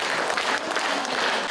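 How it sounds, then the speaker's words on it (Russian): Dense, steady applause from a concert audience at a harmonica (garmon) festival in Nizhnekamsk, filling the whole stretch at an even, loud level with no voices on top. "Все полтора часа выступления артистов сопровождались аплодисментами."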